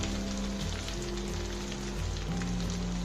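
Green capsicum sizzles in hot oil while cooking for chicken Manchurian with fried rice, a steady dense crackle and hiss that runs continuously with no talking over it.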